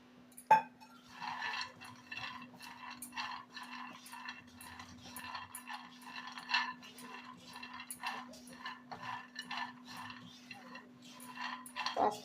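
Peanuts are dry-roasted in a hot kadai, giving faint, scattered clicks and light rattles throughout over a low steady hum.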